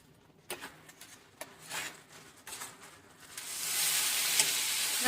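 Ground turmeric, cumin powder and salt are sautéed in a pan with onion and green chilli: scattered light stirring knocks at first, then a steady, fairly loud oil sizzle swells and holds to the end.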